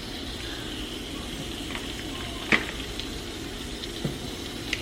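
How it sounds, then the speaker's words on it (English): Sausage sizzles in a skillet, a steady soft frying hiss with a few small pops and clicks, heard alone at moderate distance. "I'm gonna go on and put the sausage on. You hear a little sizzle."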